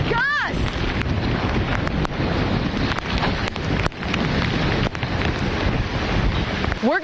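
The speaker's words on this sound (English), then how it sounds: "Look at these gusts." Strong hurricane wind gusts from Hurricane Delta roar loudly and continuously into the microphone, with brief whistling sweeps at the start and end.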